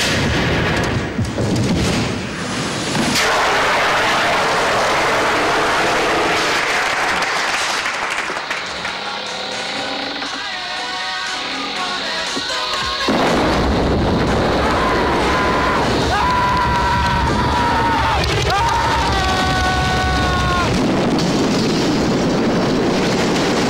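On a TV fire-drama set, pyrotechnic fire effects roar loudly, with booming bursts and crackling flames filling the space and a rumbling, turbulent wash that swells and shifts over time.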